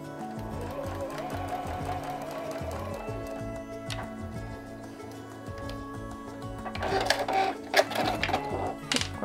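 Domestic sewing machine stitching a zipper pouch, rapid rhythmic mechanical needle clatter running steadily at close range, pausing briefly before louder handling clicks and rustles near the end.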